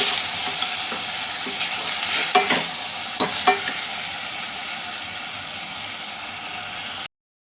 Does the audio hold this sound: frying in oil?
yes